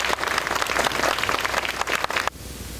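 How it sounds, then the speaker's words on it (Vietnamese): An audience at a Vietnamese community event in Oakland claps loudly and steadily for about two seconds before the applause stops abruptly. "xin quý vị cho một tràng vỗ tay nồng nàn cho anh Lưu Xuân Phước."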